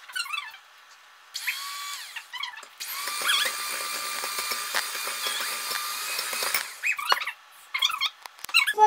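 Four eggs are beaten in a bowl, giving bursts of high, whirring, squeaky mixing noise with short pauses between them, close and fairly loud, with no talking.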